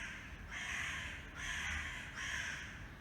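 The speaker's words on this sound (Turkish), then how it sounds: "Kargalar ben video çekmeyeyim diye ellerinden geleni yapıyorlar." Crows caw three times in a row, harsh and fairly close, each call long and rasping.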